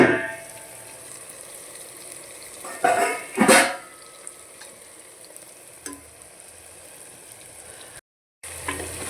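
Green egg curry being stirred in a pot: a steady, gentle sizzle runs throughout, broken by a short burst of spoon scraping and clatter against the pot near the middle and a faint knock later.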